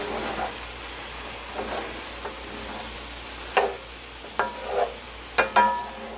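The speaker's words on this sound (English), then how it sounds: "I like my mushrooms really sauteed good" Mushrooms sautéing in a pan for a creamy keto chicken casserole: a faint background sizzle broken by scattered scrapes and stirring knocks that grow more frequent toward the end.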